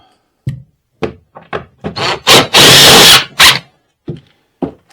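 A drill drives a screw into a wooden brace: a few short knocks and taps, then a loud whirring burst of about a second and a brief second spin, all close by.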